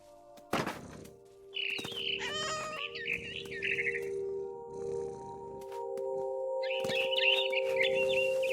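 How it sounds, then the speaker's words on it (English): A barn swallow chirps in the video game What Remains of Edith Finch: two short bursts of quick, high twittering are separated by quiet, with a dull thunk near the start and a soft steady hum underneath. "Then I heard chirping outside my window. It was a barn swallow going back to her nest."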